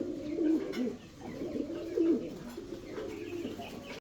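Fancy pigeons coo repeatedly in a steady low murmur, several German blaze birds close by with a few soft chirps mixed in, no voices present.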